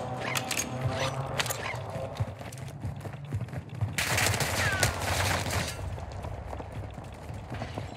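Heavy gunfire in a shooting video game, with rapid overlapping bursts running the whole time and a denser, louder volley near the middle, all mixed with game ambience.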